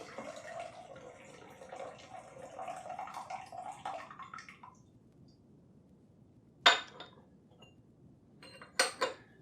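Brewed tea from the fourth steeping of a West China tea is poured into a cup in a gentle stream lasting a few seconds. Quiet follows, then two sharp clinks of ceramic.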